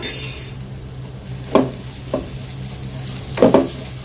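Ginger garlic paste sizzles in a hot pan while a spoon scrapes and stirs it, with a steady fry hiss underneath and several distinct scraping strokes; no voices.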